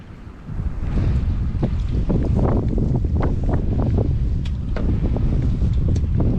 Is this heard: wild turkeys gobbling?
no